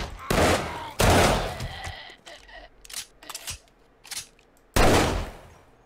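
Loud gunfire bursts in the video game 7 Days to Die, with several long, dense volleys and shorter cracks between them. The shots come close and heavy, separated by brief pauses.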